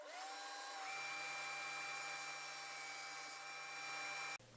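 Power sander smoothing hand-cut 1/2 inch pine pieces, a steady high whine with a constant motor hum, close and continuous for several seconds before cutting off abruptly.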